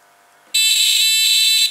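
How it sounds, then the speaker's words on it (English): An electric buzzer wired to an AA battery holder sounds with a loud, steady high-pitched tone after a brief quiet start, holding for over a second before cutting off. "buzzers have to be connected the right way round"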